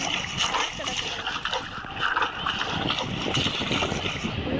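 Continuous sloshing and splashing water in a sewer in the video game Granny, steady and fairly loud, with no clear voices.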